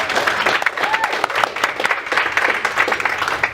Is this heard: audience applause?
yes